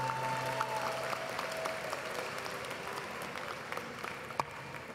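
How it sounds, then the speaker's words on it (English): An audience at a 2022 graduate school commencement claps in a soft, distant wash of steady applause, with a few sharper claps standing out. "Please give a round of applause for the Department of Curriculum and"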